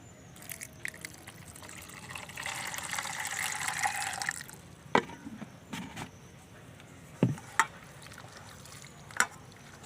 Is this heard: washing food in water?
yes